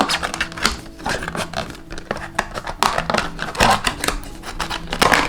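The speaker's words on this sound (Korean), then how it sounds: "그래서 가위로 이렇게 순방순방 먼저 커다랗게 잘라줄게요." Scissors cut material to make a homemade embroidery hoop, giving a steady run of close, crisp snips and rustling handling noise.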